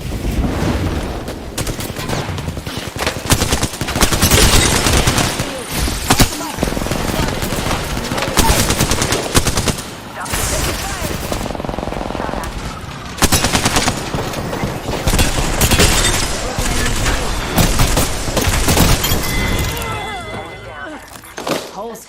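Rapid automatic gunfire and bursts of shooting fill a match of the video game Apex Legends, dense and continuous with brief lulls, while a player talks over the action.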